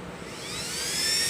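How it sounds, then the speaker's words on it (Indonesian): A SunEdge cooling fan runs at full speed with a steady, loud whooshing roar of rushing air that swells slightly toward the end, heard alone without talk. "Untuk mode flat ya, mode flat dengan kipas angin super"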